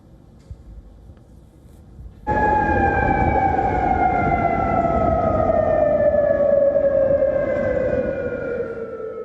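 Air raid siren sounding in Bahrain, starting abruptly after a quiet moment and then holding a loud, steady wailing tone that slowly drifts lower in pitch, with no voices.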